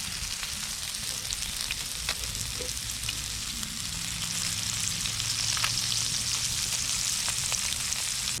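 Alabama bass fish meat frying over an open fire at a lakeside, a steady, even sizzle with crackling pops holding at a constant level throughout, no voices.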